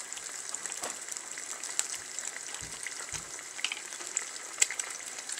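Homemade breakfast frying in a pan, a steady soft sizzle with faint crackles and pops running alone the whole time.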